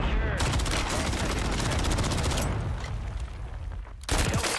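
Rapid gunfire from a Call of Duty match, dense overlapping shots and bursts close and loud for several seconds, with a brief drop near the end before firing resumes, under game sound.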